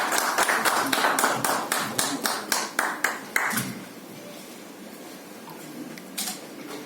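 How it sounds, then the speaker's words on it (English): A few people at a music video launch press meet clap in sharp, distinct, fairly close claps that weaken and stop partway, leaving a quiet room with faint background murmur. "Please give a big round of applause to all our guests who are sitting here."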